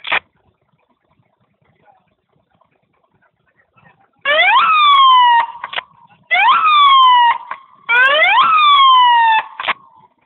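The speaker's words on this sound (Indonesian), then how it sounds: "Setelah dibunyikan sirine 3 kali pendek" Three short blasting warning siren blasts at a coal mine ring out loudly after a near-silent stretch, each rising then falling in pitch, evenly spaced with brief gaps between them.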